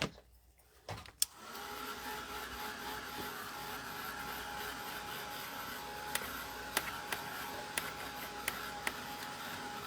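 A hand-held heat drying tool blows with a steady, even whoosh after a couple of clicks at the start, drying dye, and a few sharp taps sound over the constant airflow.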